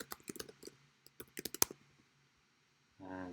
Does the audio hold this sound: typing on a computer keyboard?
yes